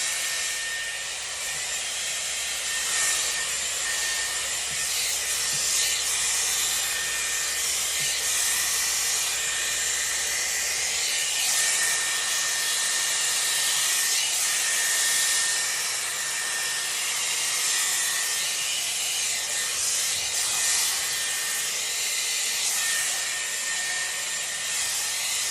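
A Dyson Airwrap round brush runs steadily on its cool shot setting, blowing air at hair with a loud, continuous close-up whoosh and no talk over it.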